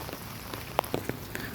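Steady rain falling outdoors under a dark sky while fishing with a net, a soft continuous patter with a few distinct drops striking nearby.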